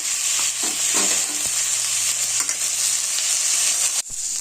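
Potatoes and turmeric frying in a pan for chowmein give a steady, close sizzle with a few stirring scrapes early on, ending abruptly near the finish.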